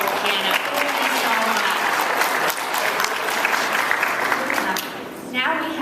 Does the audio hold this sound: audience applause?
yes